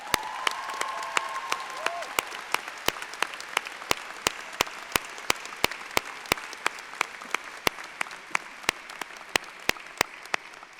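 Applause from a graduation hooding ceremony crowd at Ithaca College, a soft bed of many hands with a few loud, distinct claps ringing out in a steady rhythm above it and continuing throughout.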